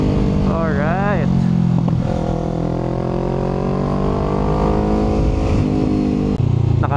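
A 2020 Kawasaki Ninja 650 accelerating hard with quick-shifter changes, its close, loud engine note climbing in pitch with abrupt drops at each gearshift and a rider's excited voice over it.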